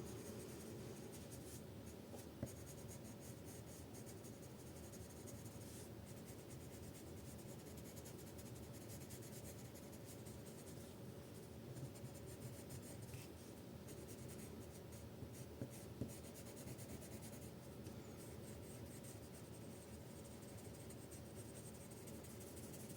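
Colored pencils scratching across paper, a steady close rasp of strokes that continues without a break, quiet and dry with faint tapping.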